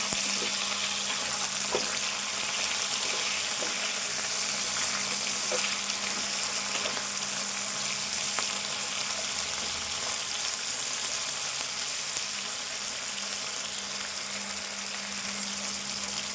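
Steady, loud hiss of aloo pulao ingredients such as tomato pieces and coriander frying in a pan, continuous throughout with faint stirring touches and no voices.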